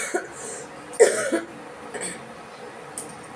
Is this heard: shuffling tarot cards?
no